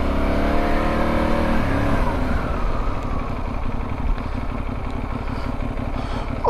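A Benelli Leoncino 800 motorcycle engine revs and accelerates nearby in a car park, its pitch rising, then the engine note drops and settles lower as the bike slows for a brake test.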